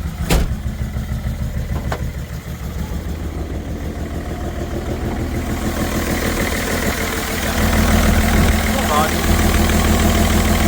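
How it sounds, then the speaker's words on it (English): BMW 330d diesel engine with a blown turbo and melted pistons runs rough, a steady low rumble with knocking and vibration that grows slightly louder toward the end, with a voice talking over it. "Uh-oh, turbo's gone."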